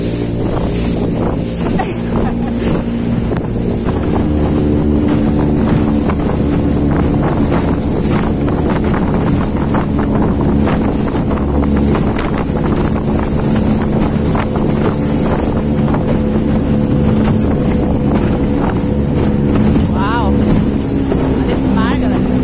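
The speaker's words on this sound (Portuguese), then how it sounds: "Aqui, ó, o barco que a gente veio." Motorboat engine droning steadily at sea off a beach in Ubatuba, loud and continuous with heavy wind buffeting the microphone throughout.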